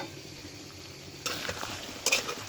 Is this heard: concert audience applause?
no